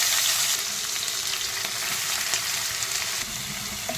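Sliced onion with bay leaf, fennel seed, cardamom, cloves, stone flower and cinnamon frying in hot oil for a chicken gravy, a loud, continuous close sizzle with faint stirring scrapes and no talk.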